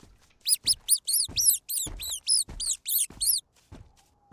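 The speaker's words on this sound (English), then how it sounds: "It's kind of fun being the little rat. I can squeak and stuff." A rat squeaking in the horror video game In Silence, a rapid series of about a dozen high, sharp squeaks in quick succession, close and clear, then fading to quiet.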